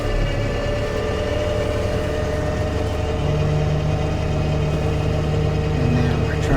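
A 2019 International 4300 dump truck idles steadily while its bed rises on the PTO-driven hoist. A low drone holds throughout, with a faint added hum joining partway through, and a voice talks over it.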